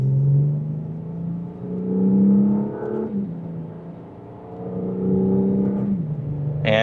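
A 2026 Audi S5 Premium Plus engine pulls in second gear in dynamic mode, rising in pitch twice as it accelerates, with a steady close cabin rumble and a brief shift dip between the pulls.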